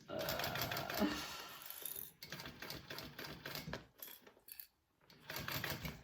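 A sewing machine stitches a mini swell pattern in rapid mechanical bursts that stop and start, with brief pauses, close by and fairly loud, alongside a few clicks and handling sounds.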